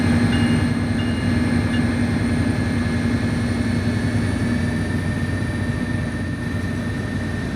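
An MBTA F40PH-3C diesel locomotive hauls a train on the Stoughton Line in Train Sim World 2, a steady loud engine drone and rolling rumble continuing without a break.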